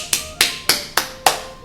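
Five sharp, evenly spaced claps ring out close by with no other sound, as an online summer Bible school class for elementary children finishes its seven-week lessons.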